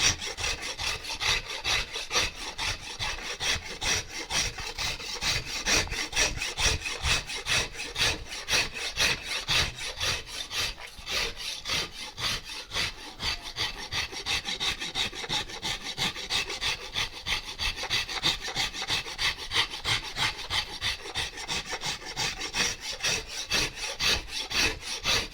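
An abrasive rasp scrapes along a wooden guitar neck being carved, in fast, steady back-and-forth strokes that repeat close up for the whole stretch with no talking.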